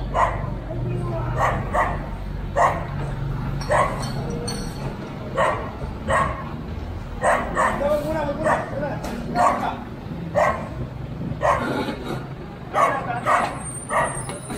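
Repeated sharp dog barks, fairly close, break out in irregular bursts over a noisy outdoor background with an idling engine and people talking.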